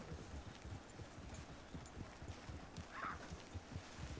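Horse hooves walking at a steady clip-clop in Red Dead Redemption 2, a quiet, even rhythm of soft thuds continuing throughout with a faint brief whinny-like tone midway.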